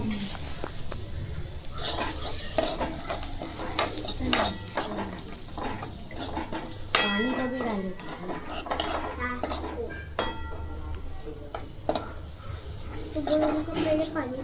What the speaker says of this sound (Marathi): मॅगी मसाला किती टेस्टी परतून घेऊ